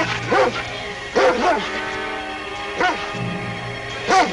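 Sled dogs of a Mountie's team barking and yelping in the snow, four separate bursts of overlapping barks, fairly near and loud over a low background hum.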